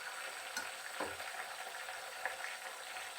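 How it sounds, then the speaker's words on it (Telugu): Curry leaves, hibiscus leaves and fenugreek seeds frying in hot oil, a faint, steady sizzle with a few soft stirring clinks, close by and without talk. "మన కరివేపాకు, మందారం ఆకులు, మెంతులు ఇవన్నీ నూనెలో చూడండి అప్పుడే స్టార్ట్ అవుతుంది"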